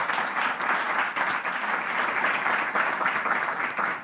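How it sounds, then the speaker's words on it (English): A studio audience applauds on a television talk show, giving a full, even burst of clapping that holds steady and loud for several seconds before tapering off. "Please let's give a round of applause to Sylvia, Trudy, and Kafui who join us on Airtel Touch and Live"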